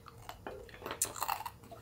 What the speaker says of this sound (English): It's very satisfying to bite into and chew.